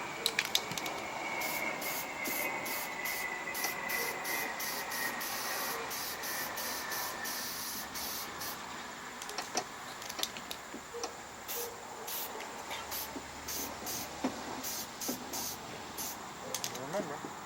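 A spray gun coats a black machine with paint in a continuous close hiss, broken by short sharp pulses as the trigger is worked.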